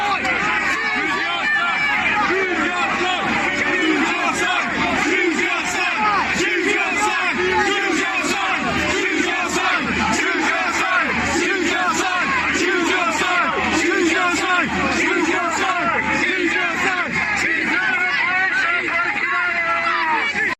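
A dense crowd chants and shouts in unison at police officers, a continuous roaring mass of voices with rhythmic surges, loud and close throughout with no pauses.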